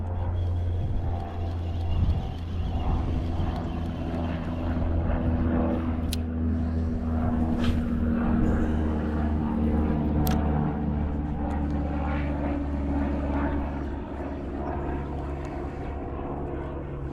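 Steady drone of a propeller airplane passing overhead at an outdoor fishing spot, a continuous low engine hum that holds at moderate distance without fading, with faint voices underneath.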